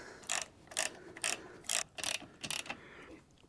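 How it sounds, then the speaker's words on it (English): Locking nut being tightened on a Mercury outboard lower leg during water pump impeller replacement, heard as about seven evenly spaced ratcheting bursts, close and crisp, with no talking. "Now just tighten up that locking nut."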